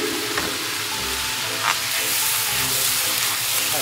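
Meat and vegetables stir-fry in a pan with soy sauce and oyster sauce, giving a loud, steady, close sizzle with a few brief stirring bursts and no talking.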